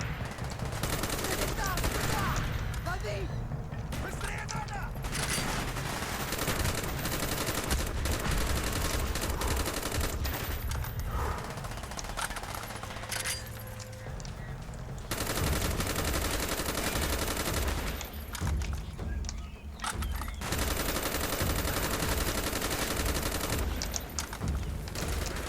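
Rapid gunfire from Call of Duty Black Ops fills the whole stretch: loud, dense automatic bursts and single shots, with a few brief lulls between volleys.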